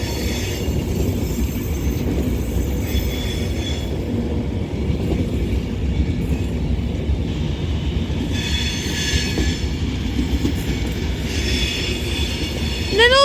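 A Class 390 electric train moves through Wolverhampton station on the West Coast Main Line, a sustained loud rolling rumble with wheel squeal and rail clatter close by, ending in a sharp high squeal.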